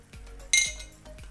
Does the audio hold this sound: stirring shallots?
yes